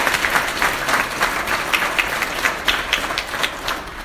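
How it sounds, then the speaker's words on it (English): A round of applause from an audience at an inspirational luncheon, loud and close, with a full crowd clapping in a dense, continuous patter and a few sharper individual claps standing out. "I think that deserves a round of applause."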